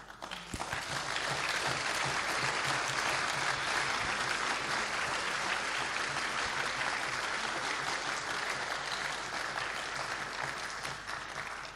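A large audience applauding volunteers at the closing session of the FOSDEM 2020 conference, dense, sustained clapping filling the hall for the whole span.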